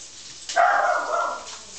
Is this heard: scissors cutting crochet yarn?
no